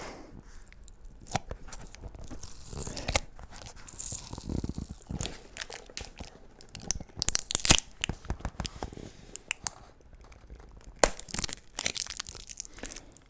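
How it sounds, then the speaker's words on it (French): Intermittent sticky peeling and crinkling sounds up close as tape is pulled off a box, with tearing pulls and small crackles coming in irregular bursts between quieter pauses. "Voilà, on a enlevé les deux petits bouts de scotch."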